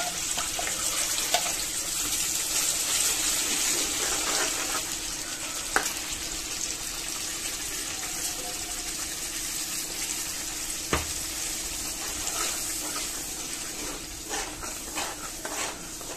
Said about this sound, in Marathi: आता आपण हा वाटलेला मसाला जो आहे तो सगळा आपण याच्यात घालून घेऊया